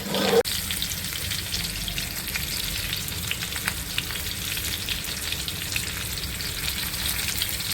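Bitter gourd pan-frying on an iron tava sizzles in a steady, close, continuous crackle, with a brief bump at the very start.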